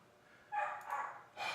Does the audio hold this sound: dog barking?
yes